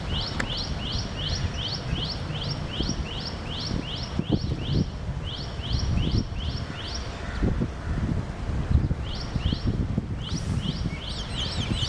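Red-vented bulbul calls in repeated bright chirping phrases, arriving in bursts over a steady bed of rustling leaves and wind outdoors, with other faint birds around.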